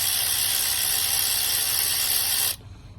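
A cheap cordless ratchet bought on Amazon, running as a continuous loud buzzing whir up close for about two and a half seconds, then cutting off abruptly into quiet.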